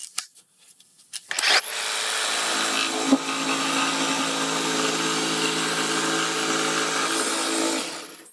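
A power saw fitted with a fine-tooth blade cuts through wood in one steady, loud pass of about six seconds, preceded by a few short clicks and a brief spin-up and ending as the motor winds down.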